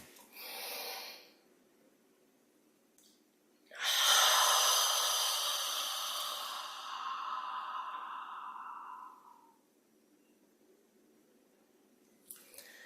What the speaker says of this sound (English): breathing in through the nose, letting the belly expand, taking that nice long exhale